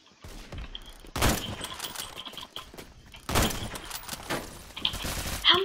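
Bursts of rapid automatic gunfire crackle in the shooter game Phantom Forces, a few sharp volleys separated by quieter gaps, loud and close, with faint ambient chirps between the shots.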